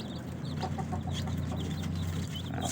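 Vaccinated young chickens cluck and peep in a cage on a farm, with many soft overlapping calls close by over a low steady background hum.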